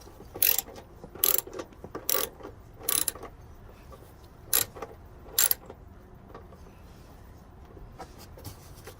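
Several short, sharp mechanical ratcheting clicks in small bursts come from a bolt being retightened on the tank of a Craftsman 6.5 lawn mower, close and fairly quiet.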